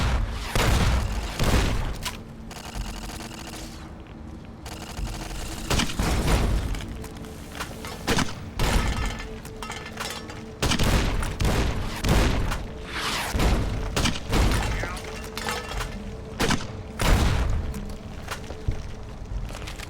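Automated sentry turrets fire in Fallout: New Vegas, Lonesome Road, as a loud, dense run of booming shots and thuds in irregular bursts across the whole stretch, with no talk over them.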